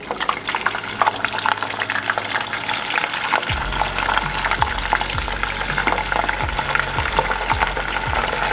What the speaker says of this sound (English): We're deep frying rice right now.